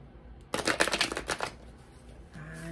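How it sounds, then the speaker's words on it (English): A quick burst of slippery tarot cards being shuffled, a rapid papery riffle lasting about a second, followed by quiet room tone and a faint hum. "We're going to go ahead and shuffle it."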